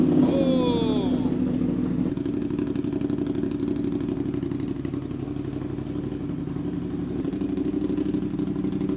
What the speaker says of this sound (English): Let's see if the Ducati powers on first go.